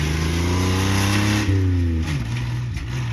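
An old Dodge Dakota truck with a manual transmission drives along, its engine droning close and steady with revs rising and dropping through a shift.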